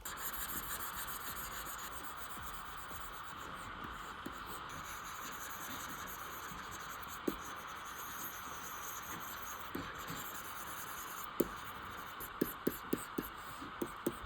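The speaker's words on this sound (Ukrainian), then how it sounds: "подобається звук від пера, додає ще більше задоволення від роботи" A continuous soft scratching and rubbing of a stylus pen dragged across a Wacom One 13 touch drawing tablet, close and steady, with a few faint taps near the end.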